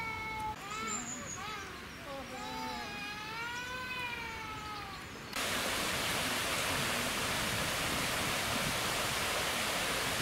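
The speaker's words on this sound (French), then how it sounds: "Cette petite cascade est sans commune mesure avec celle de Bojana" A small waterfall in a park in Sofia, Bulgaria, rushes as a steady broadband wash that starts abruptly partway through, after a stretch of birdsong-like tonal calls.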